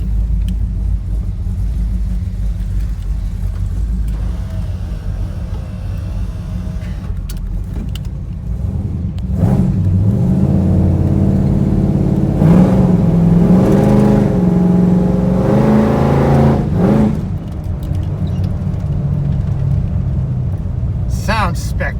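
Squarebody Chevy dually truck with new mufflers, a deep steady engine rumble that swells as it revs and then settles back, with people talking over it.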